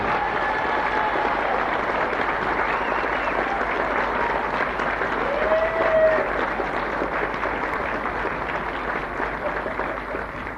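A crowd applauds steadily throughout, a dense, sustained wash of clapping with a few faint whistles and cheers mixed in.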